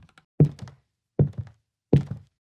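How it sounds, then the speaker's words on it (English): Three slow, evenly spaced footsteps on a wooden floor, each a heavy thud with a short creak after it, close and clear with silence between steps. "if I type in footsteps on wood, calm and slow, and add creaky floor, it gives us a consistent and good sounding result"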